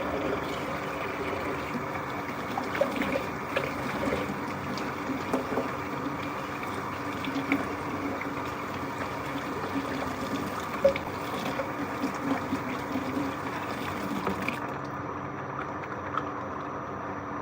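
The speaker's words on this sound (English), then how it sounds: "So let me just wash my face first." Water runs steadily from a tap during face washing, a continuous gushing wash with small splashes that continues for most of the stretch and then thins out near the end. No one speaks.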